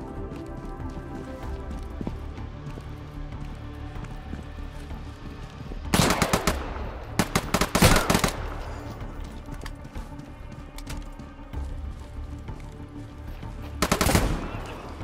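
Gunfire in the survival shooter Deadside: a few sharp, loud automatic bursts cut through steady background ambience, with a later short volley after a pause.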